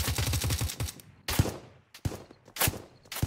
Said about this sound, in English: We're getting shot at, buddy.